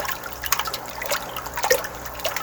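Water splashing and trickling in an aggressively aerated potting mix brew used for pre-sprouting ranunculus, a steady close bubbling wash with irregular splashes and drips, no talk.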